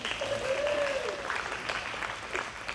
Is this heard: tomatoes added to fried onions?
no